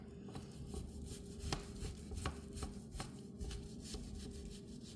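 A knife chops through partially frozen chuck beef on a cutting board, steady close thuds repeating about twice per second, with no talking.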